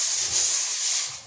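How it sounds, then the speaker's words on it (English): Hand sanding of drywall compound along the edges, a close, bright scratchy rasp in short back-and-forth strokes, heard alone. "I'm going to sand down the edges a little more"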